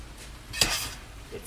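Glass noodle pancit being mixed in a Saladmaster pan: a single soft clatter of utensil against pan, faint and close, with no talking.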